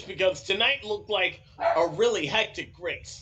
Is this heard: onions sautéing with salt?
no